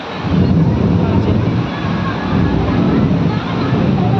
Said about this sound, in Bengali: প্রচণ্ড বিদ্যুৎ চমকাইতেছে ভয় লাগতেছে আমার